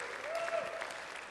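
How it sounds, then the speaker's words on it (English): Applause from a seminar audience of students, a steady, fairly faint wash of many hands clapping at once, continuous and even throughout the moment. "Give yourselves a round of applause."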